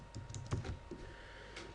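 Keys clatter on a computer keyboard in quick, uneven taps, faint and close, with no talking over them.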